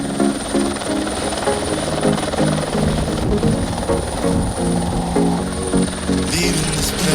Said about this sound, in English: the only way he could arrive on time was on a helicopter that Richard hired